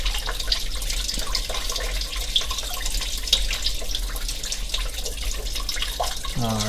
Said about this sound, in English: Get this more coolant coming out.